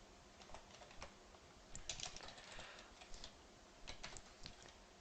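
Quiet bursts of keystrokes on a computer keyboard as commands are entered into the MongoDB shell, irregular clusters of close, soft clicks separated by short pauses, with no talking.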